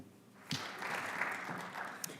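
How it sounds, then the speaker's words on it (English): An audience at a Martin Luther King Jr. birthday celebration event claps: soft, scattered applause swells after a sharp opening thump and holds at a moderate, somewhat distant level for about two seconds. "I was pleased there to be able to applaud for them."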